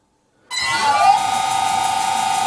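A vintage metal lathe runs at 800 RPM with a high-speed steel cutting tool, starting suddenly into a loud, close whine with a steady high tone that rises briefly and then holds, with no talking.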